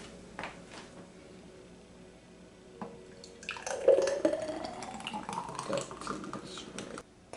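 Homemade green juice of kale, spinach, apple and pineapple poured into a glass in a home kitchen, a quiet trickle that swells into a steadier liquid splash for a few seconds, close by with no talking.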